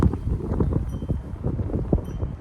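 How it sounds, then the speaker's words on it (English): Wind buffets the microphone outdoors with a steady, close, low rumble and irregular gusty flutters throughout. No voices. "that's the wind again"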